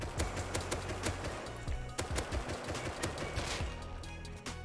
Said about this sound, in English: Practice strafing while shooting.